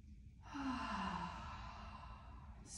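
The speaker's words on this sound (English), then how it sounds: "One more big breath." One slow, deep breath taken during a guided yoga breathing exercise, soft and close, drawn in and released in a single long airy sigh.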